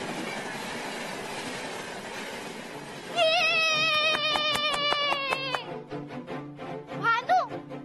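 A Rajdhani Express train passes close by, starting with a rumbling roar of rolling wagons, then a loud horn blast and screeching, squealing wheels as it moves, with a voice briefly heard near the end.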